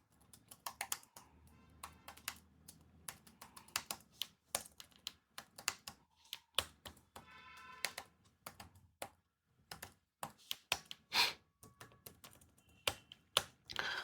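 Someone types a company address on a computer keyboard, producing quiet, irregular bursts of crisp key taps with short pauses between runs, close and alone without speech.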